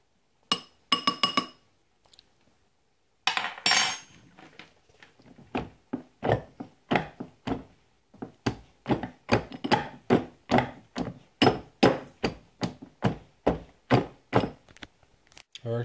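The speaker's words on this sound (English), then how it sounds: "I'm just gonna crush them with this thing." Lumps are crushed by hand with a utensil in a bowl, making a long series of sharp glassy clinks and knocks, first in quick clusters, then in a steady rhythmic beat near the listener.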